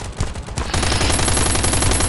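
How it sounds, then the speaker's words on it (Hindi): Rapid sustained automatic gunfire in a survival shooter game, a dense continuous rattle of shots after a brief quieter opening, loud and steady with no talking. "अपने टीममेट भी वहाँ से इसको गोलियाँ मारने लगा है"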